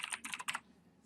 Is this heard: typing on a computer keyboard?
yes